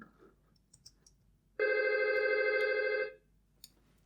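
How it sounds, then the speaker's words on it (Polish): A VoIP desk telephone rings once in a steady electronic burst of about a second and a half, preceded and followed by faint clicks. "I widać, że dzwoni nam telefon, jesteśmy połączeni"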